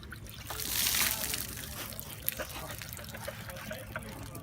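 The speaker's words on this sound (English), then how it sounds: "We're going to pour water on it." Water poured over a standard concrete mix test panel, a steady trickling splash that swells in the first second and then continues as a softer dribble with small spatters.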